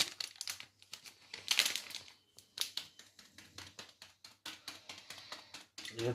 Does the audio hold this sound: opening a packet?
yes